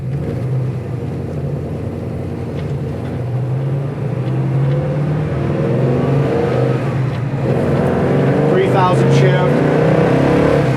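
A Chevelle SS muscle car engine, still cold, rumbles and revs steadily while driving, its pitch climbing toward the end, with people talking faintly underneath.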